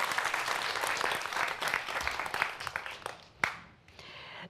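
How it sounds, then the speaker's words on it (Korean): An audience at a lecture breaks into applause, a dense wash of clapping that fades toward the end, with a sharp single knock near the close. "정희선 원장님의 강연 박수로 다시 한번 청해 보겠습니다"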